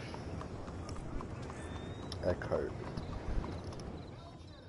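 Horse hooves in Red Dead Redemption 2, a few soft clip-clops near a stable heard faintly under someone talking, with light game ambience around them.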